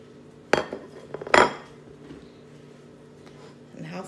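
Crispy mac-and-cheese-seasoned chicken pieces are handled, giving two sharp crunchy clattering bursts near the start, then quieter handling sounds as a voice talks throughout.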